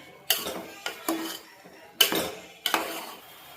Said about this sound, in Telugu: వంకాయలు వేసాను కదండి, కలిపాను.